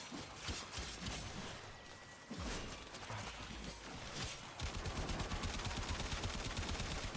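Rapid gunfire in the Warframe video game, with dense bursts of automatic shots that grow heavier and more continuous toward the end, loud and up front with no talking.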